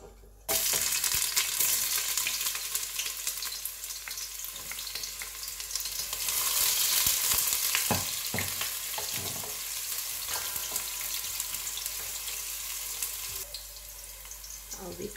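Chopped onion sizzles loudly in a hot pan for fried rice, a steady broadband frying hiss that starts abruptly and holds, with occasional stirring scrapes and no talk.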